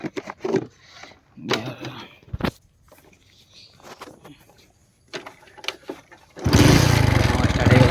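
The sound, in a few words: motorbike engine being started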